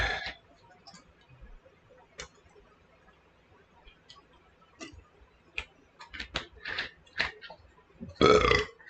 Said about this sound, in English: Get a good burp in me.